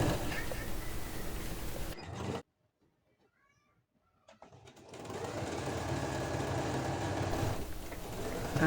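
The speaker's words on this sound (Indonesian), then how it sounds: "Mulai penjahitan. Ini jahit sisinya" A sewing machine stitches the side seam of an old dress, running steadily and fairly loud, then briefly stopping into near silence before whirring again for several seconds.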